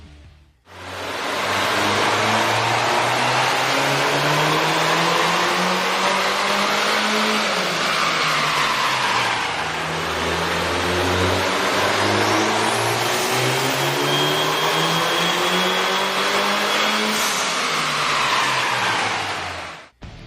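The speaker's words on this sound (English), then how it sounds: "With the air intake installed, we ran the vehicle on the dyno to test the sound comparison versus the stock intake." Car engine with an aftermarket air intake revving hard on a dyno, two long loud sweeps rising and falling with a whooshing intake roar, close and continuous with no voices.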